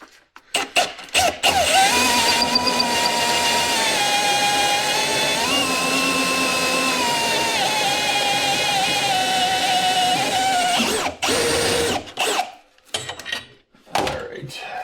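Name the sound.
power drill with half-inch bit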